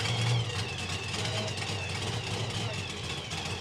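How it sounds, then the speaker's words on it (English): Nitro Funny Car drag racing engine at a nostalgia drag meet with a fuel flow restriction, running with a steady, loud, rough low rumble and dense broadband roar throughout, voices faintly mixed in. "That is the weirdest sounding Nitro Funny car I've heard for a while."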